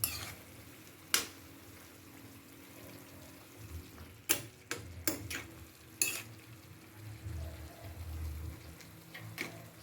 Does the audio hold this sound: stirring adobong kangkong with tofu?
yes